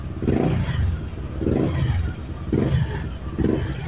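A Yamaha NMAX V2 scooter engine runs after a no-start fault repair, revving up and easing back in four rhythmic pulses, close and fairly loud with no talk over it.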